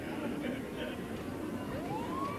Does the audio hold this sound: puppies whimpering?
no